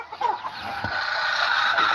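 Chickens on a farm give a couple of close clucks and squawks, then a steady barnyard hum of fowl continues in the background, with no speech.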